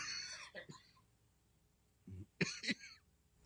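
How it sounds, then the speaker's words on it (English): A man coughs a few times up close during a podcast recording, one short bout followed after a pause by a louder cluster of rough, throaty coughs in a quiet room. "I'm coughing."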